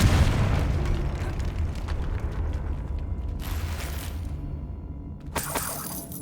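A Confringo fire spell from the Hogwarts Legacy video game bursts with a loud, crackling, shattering explosion that trails off, followed by a second bright blast near the end, with no speech.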